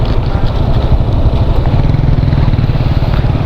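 Motorcycle engines idle and rumble close by while waiting to board at Batangas port, a loud, steady low-pitched throb with no speech.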